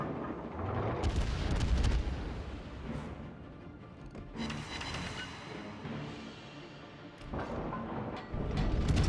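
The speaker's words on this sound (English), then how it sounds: "that was a good salvo" Heavy battleship main gun salvos from the American battleship Illinois in World of Warships, deep booming blasts with rumbling tails, the loudest near the start and again at the end, no talk.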